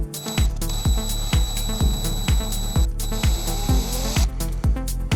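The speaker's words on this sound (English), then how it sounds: "We need a second stage to drill just the tip out for the LED itself" A drill bores a second, wider stage into the plastic case of a Vela Discolite DK-990 boombox to seat an LED, running as a loud, steady whine broken by short repeated bursts and pulses close to the mic.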